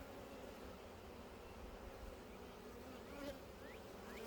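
Angry honeybees swarm around a beekeeper in a bee suit, their dense buzzing forming a steady, even drone close by, with a few individual insects whining past.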